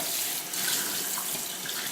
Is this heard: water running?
yes